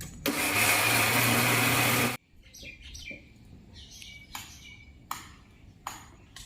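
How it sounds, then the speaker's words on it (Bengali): A mixer grinder whirs loudly for about two seconds while grinding soaked lentils, then cuts off, leaving a quiet room with scattered chirps and light clinks. "এবার আমি ডালগুলি মিক্সিতে দিয়ে বেটে নেব"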